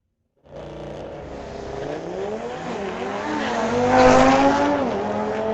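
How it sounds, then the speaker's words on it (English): A 2024 BMW runs a street-legal drag race at a raceway. The engine note climbs through rising, sweeping pitches, gets louder toward a peak, then eases slightly. It is heard from a distance with no talking. "Kevin out of Burnaby in his 24 BMW off to a fairly sizable lead."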